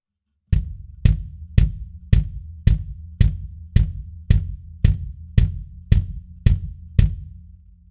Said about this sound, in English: Our inside mic is the Sennheiser E902 pointed directly at the beater on the other side of the drum.